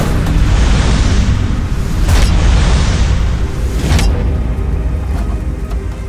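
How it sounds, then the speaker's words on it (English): In an audio drama, the Batmobile's roof panels are torn away: loud continuous grinding, rumbling metal noise with two sharp bursts of wrenching impact, fading slightly toward the end. "he rips at the roof panels of the Batmobile."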